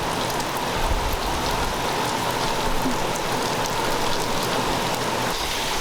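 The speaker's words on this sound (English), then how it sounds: "the rain and wind are coming down a lot harder" Heavy rain pours steadily during Hurricane Ian, a dense, unbroken hiss of drops hitting surfaces with gusting wind mixed in, loud and continuous with no talking.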